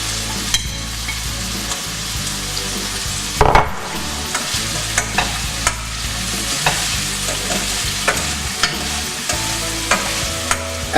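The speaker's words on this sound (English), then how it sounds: "We're going to add back in our bacon" Bacon and Brussels sprouts fry in a hot pan, a constant sizzle broken by sharp scrapes and clacks of a utensil tossing and stirring, close and fairly loud, with a few heavier knocks.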